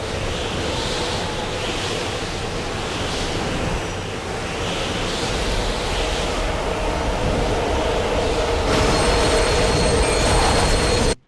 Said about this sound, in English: flying through the air in order to catch up with a moving train